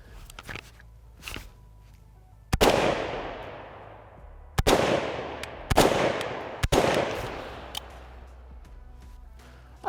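A PSAK-47 GF5 AK-47 rifle fired outdoors, several loud single shots spaced a second or two apart, each with a long echoing decay, alone without talk.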